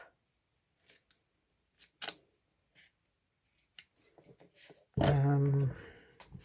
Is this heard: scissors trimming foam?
yes